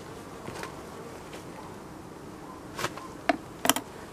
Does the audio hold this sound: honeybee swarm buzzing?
yes